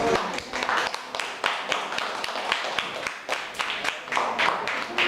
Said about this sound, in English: do you have round of applause?